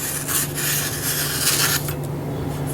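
A very sharp Chef's Choice-sharpened kitchen knife slices through a sheet of paper, giving a close, continuous rustling scrape that swells and fades over about three seconds, with no talking.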